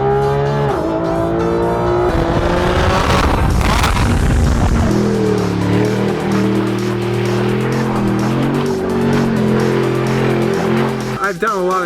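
Bugatti Chiron engine revving hard and accelerating, with a loud, sustained harmonic roar and a burst of tire squeal and skidding noise around the middle, close to the microphone and continuous throughout.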